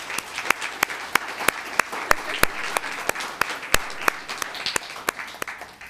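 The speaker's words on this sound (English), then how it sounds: "Let's give him a round of applause" Applause at a town council meeting, with a few close, loud, evenly spaced claps standing out over a lighter spread of clapping from the room, going on steadily without speech.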